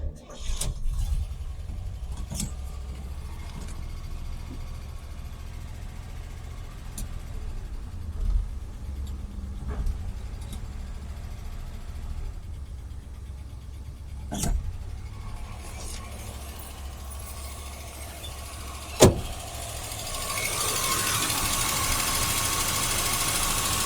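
An old car engine, sitting unused for over 25 years with a weak fuel pump, idles roughly with a low uneven knocking rumble, broken by occasional clicks and thumps, while people talk nearby.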